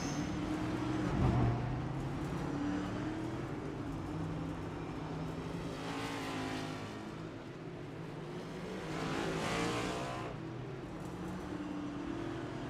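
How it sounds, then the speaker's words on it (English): Race cars in a virtual racing game pulling out onto a mile-and-a-half oval circuit in Fort Worth, Texas, a steady engine drone with two rising passes, heard alone without talk. "it's time to see the cars all make their way out for the first time to the track"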